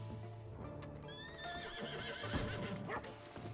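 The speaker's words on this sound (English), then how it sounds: "And there's an exhausted horse." Horses whinny and neigh with rising and falling cries over steady clip-clop of hooves, several animals in a busy Western town setting in RedM roleplay, no talking.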